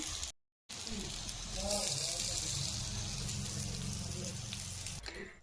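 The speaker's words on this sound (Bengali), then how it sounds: "বেগুন ভাজা চলছে" Eggplant frying in oil, giving a steady close hiss and sizzle after a brief silence near the start, with no talk.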